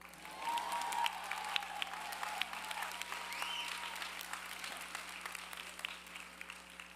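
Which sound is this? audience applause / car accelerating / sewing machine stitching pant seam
audience applause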